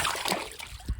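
A small splash and slosh as a smallmouth bass is released into a creek, brief trickling water ending in one soft low splash.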